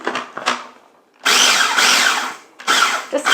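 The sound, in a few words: small food processor grinding panko breadcrumbs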